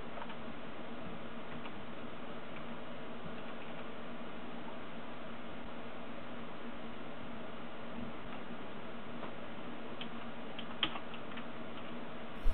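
Plus and minus keys on a computer keyboard are pressed to raise the CPU voltage in a BIOS menu. Faint, scattered key clicks sit under a constant hiss, with a slightly louder click near the end.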